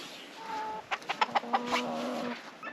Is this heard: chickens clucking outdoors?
yes